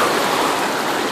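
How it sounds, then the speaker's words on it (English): Creek water rushes steadily in a close, loud, continuous wash of broadband noise with no voices over it. "Just found a creek."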